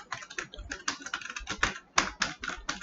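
Quick, uneven clicks of typing on a computer keyboard while writing JavaScript code, close and fairly soft, with no talk over them.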